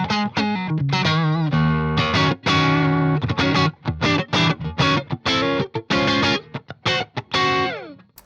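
Fender Ultra II Telecaster electric guitar played alone, thick and full distorted tone with fast picked notes and chord stabs, loud and close with short pauses between phrases.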